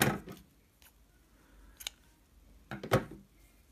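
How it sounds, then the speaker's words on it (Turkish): Scissors snip crochet yarn after a finished row of a baby vest, a few quiet close-up clicks and cuts with pauses between them and no voices. "İpi burada kesiyorum."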